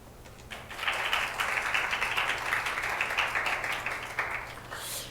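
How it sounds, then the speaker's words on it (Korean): A church congregation at a Korean Sunday service breaks into warm applause to welcome a missionary. The clapping starts after a brief pause, holds steady for a few seconds and then fades, over a low background hum. "우리 선교사님 나오실 때 감사와 환영의 마음을 담아 큰 박수로 모시겠습니다"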